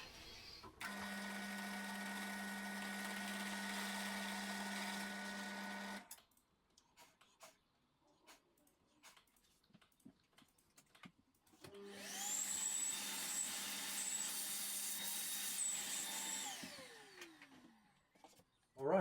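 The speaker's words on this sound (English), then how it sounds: "drilled all the holes in this bit of wood" A power drill whines steadily for several seconds boring holes in a piece of wood, pauses amid small clicks and handling noises, then runs again, its pitch rising and falling before stopping.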